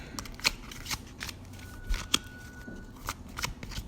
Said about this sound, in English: So I just like to shuffle and cut on camera.